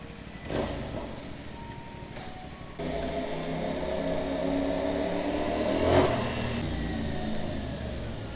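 A motorcycle engine fires up after a couple of short cranking bursts, then settles into a steady running rumble with a brief rev swelling near the end.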